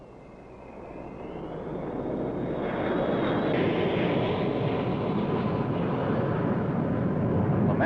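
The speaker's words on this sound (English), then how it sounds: "Men and bombers of the Strategic Air Command, armed and ready around the globe." Strategic Air Command bomber aircraft engines roar in a steady, rising drone that swells over the first few seconds and then holds loud and close, with a high whine gliding above the broad rumble; no talking.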